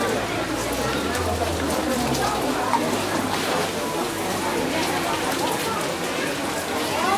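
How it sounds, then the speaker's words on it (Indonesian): Steady rain falls at Sanur beach in Bali, a dense, even hiss of drops on surfaces, heard close and continuous while people talk in the background. "jadi hari ini hujan dan terpaksa kita neduh dulu"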